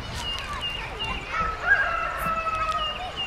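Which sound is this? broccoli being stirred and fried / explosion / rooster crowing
rooster crowing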